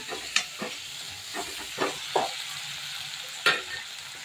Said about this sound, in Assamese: আৰু ইয়াত জলকীয়া ফ্ৰাই কৰি আছোঁ।